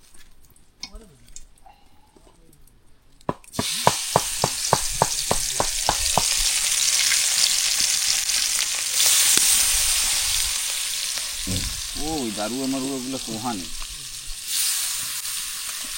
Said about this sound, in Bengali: তো মাছ ভাজা হোক